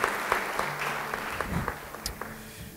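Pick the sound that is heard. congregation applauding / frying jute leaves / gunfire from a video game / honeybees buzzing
congregation applauding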